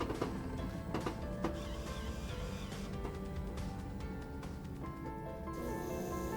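A Miele built-in coffee machine starting up and running a rinse cycle, giving a steady mechanical hum with faint water gurgles and a few soft clicks, close by and continuous, with a brief hiss near the end.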